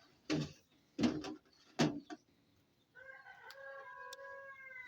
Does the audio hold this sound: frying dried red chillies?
no